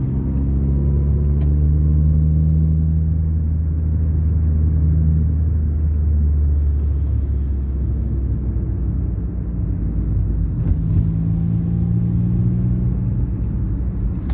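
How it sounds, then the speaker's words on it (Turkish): A car climbing uphill in fourth gear during a driving lesson, its engine laboring with a steady low rumble throughout, loud and continuous with no talk over it. "Dörde attık araba çekmiyor. Yani yokuş yukarı olduğundan dolayı"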